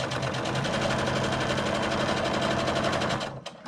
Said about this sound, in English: keep sewing down the edge